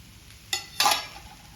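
Paneer fried rice with spring onion being stirred and mixed in a pan: two short scraping, tossing bursts of the spatula against the metal, the second longer, over a quiet kitchen background.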